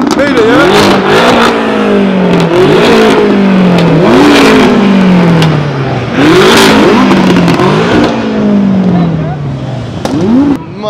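Cars at a street car meet and cruise rev their engines hard, with repeated rising-and-falling revs roughly every two seconds, loud and close, while a crowd talks and shouts in the background.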